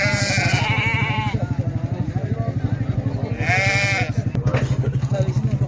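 Sheep bleat twice, loud and near, at a sheep, goat and cattle market in Mashtaga, with a steady motor running underneath and people talking nearby.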